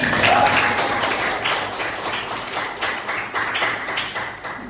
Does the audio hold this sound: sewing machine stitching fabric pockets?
no